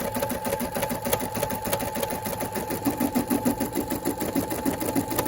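Rapid, steady mechanical chattering of a Brother SE600 embroidery machine stitching a letter E, close and continuous with a regular pulsing rhythm throughout.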